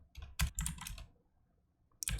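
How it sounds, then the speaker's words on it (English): Bursts of rapid key clicks on a computer keyboard while the word Robux is typed over and over in a Roblox Pls Donate game, two busy clusters of close taps separated by a short pause. "you want to type Robux and keep typing it until this fills up"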